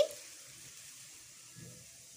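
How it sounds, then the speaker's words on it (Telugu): Water is poured into a kadai holding 200 grams of jaggery on the stove, giving a faint, steady hiss and soft splashing that continues throughout, quiet and close. "అలాగే కొంచెం వాటర్ వేసుకోవాలండి"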